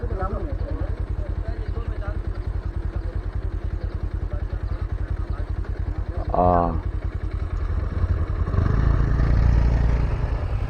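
A motorcycle engine chugs with a fast, steady beat close by as the bike rides along the Bhuban Pahar road in Cachar, Assam, rising in loudness toward the end, with people talking over it.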